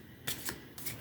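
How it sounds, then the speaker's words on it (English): Two brief bursts of crisp papery riffling, telepathy oracle cards being shuffled close by, separated by a short pause. "First shuffle."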